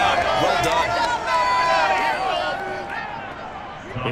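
Stadium crowd in Madden 23 during an Eagles vs. Dolphins preseason game, a loud broad roar of cheering and applause that swells and holds, with a commentator's voice running over it.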